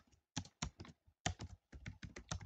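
Typing on a computer keyboard while writing code in Adobe Flash/Animate, a close, clear run of uneven keystroke clusters with short pauses, heard alone without talk.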